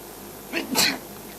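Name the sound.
a person sneezing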